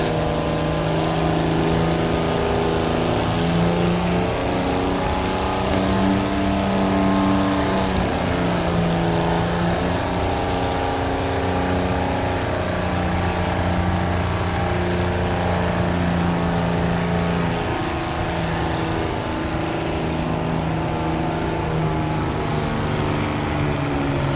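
A loud International Farmall 460 tractor engine drones steadily at high revs during a tractor pull run, its pitch shifting slightly as the pull goes on.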